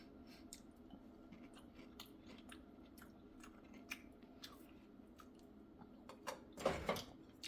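Crisped bacon-flavored Spam being chewed, with faint crunchy bites ticking through a quiet background and a louder crunch near the end.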